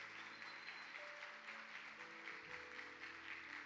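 Audience applause welcoming a couple on stage at a church family conference, a steady sustained clapping from a large crowd with some faint background tones.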